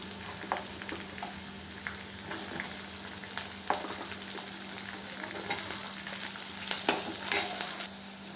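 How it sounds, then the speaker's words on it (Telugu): Onions and green chillies fry in hot oil in a pan, a steady close sizzle with occasional stirring scrapes and clinks, with no talking. "పచ్చిమిర్చి కొద్దిగా ఇలా వేగిన తర్వాత ఇందులో ఆనియన్స్ వేసేసుకున్నాం."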